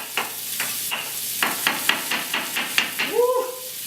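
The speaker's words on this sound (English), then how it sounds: "I'm going to take my onions and slice them." A knife slices onions on a cutting board while lamb meatballs are being made, giving a series of sharp, close chops at an uneven rhythm over a faint background sizzle.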